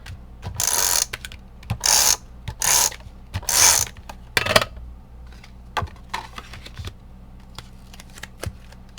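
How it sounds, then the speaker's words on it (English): A tape runner rolls adhesive onto a birthday card in several short bursts of ratcheting, gear-like clicking, close and crisp, with a few softer taps and pauses between. "I'm going to use my tape runner and stick this to the front of the card"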